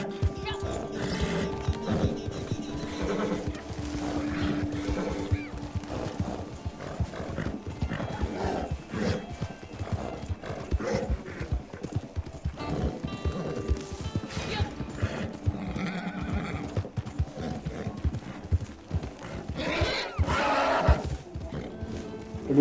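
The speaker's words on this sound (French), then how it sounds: "Il est énervé le cheval." Horse hooves clip-clop at a gallop with repeated neighs and whinnies in the Red Dead Redemption 2 video game, loud and continuous over game music and ambience, with occasional voices in the background.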